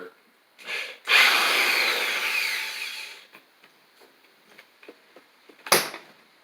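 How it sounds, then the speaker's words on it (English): A hammer drill bores during a bulldog vise repair, running loud and steady for about two seconds after a brief opening burst, then stopping, followed by scattered small knocks and one sharp clatter near the end. "Using a fucking hammer drill."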